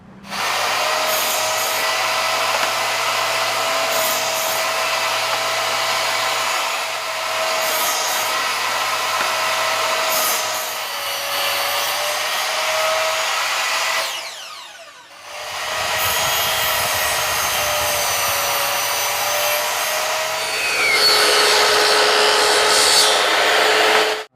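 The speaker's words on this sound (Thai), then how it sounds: "เดี๋ยวเราก็บากรอบเลยนะครับ" A mortise machine cuts square mortises into a wooden leg frame, giving a loud continuous motorised whine with a steady hum that dips briefly midway, then resumes and runs on without talk.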